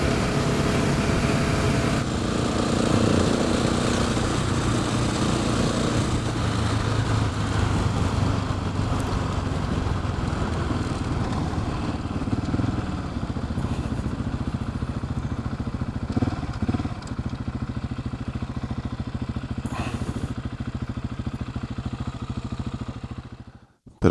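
A motorcycle rides a dusty dirt road, its engine droning steadily and fairly close for most of the ride with rattling and clatter over rough ground, easing off near the end.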